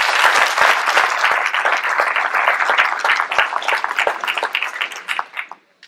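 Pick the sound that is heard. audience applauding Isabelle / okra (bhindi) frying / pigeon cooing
audience applauding Isabelle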